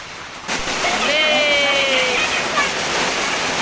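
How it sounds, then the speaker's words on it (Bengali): Steady broadband rush of heavy rain, loud and continuous, with a faint tonal whine drifting over it. "জোরে বৃষ্টি শুরু হয়ে গেল"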